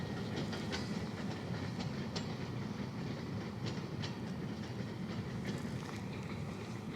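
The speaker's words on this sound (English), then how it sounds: "A train just went by in the tracks over there." A train rolls along tracks beside a park in Marysville, a steady distant rumble with faint clickety-clack of wheels, heard alone without any voices.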